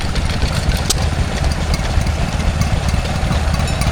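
A Stewart Turner P4 two-stroke stationary engine driving a water cooling pump runs at a rural show, giving a loud, steady, close rumble with a fast, even beat that never lets up.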